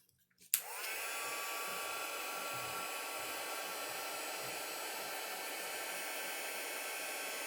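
An embossing heat tool melting clear embossing powder on a card, a loud steady blower whine and hiss that starts abruptly after a brief click and runs without a break, with no voices.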